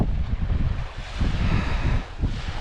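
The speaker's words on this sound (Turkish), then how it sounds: "kuzeyden bir rüzgar esiyor" A north wind gusts across open water during a sailing holiday, a full rushing roar with buffeting against the microphone, rising and falling in uneven surges with no voices.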